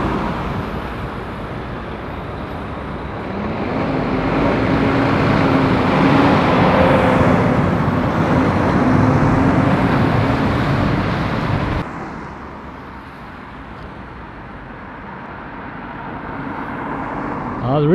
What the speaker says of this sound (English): actually, there's two lorries coming